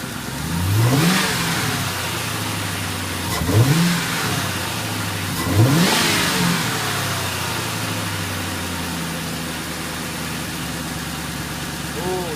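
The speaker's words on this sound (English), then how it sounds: "we're going to hit the throttle and see if it'll stay open" A Ford Mustang engine idles steadily and revs up three times, each rev rising then falling back to a low idle hum.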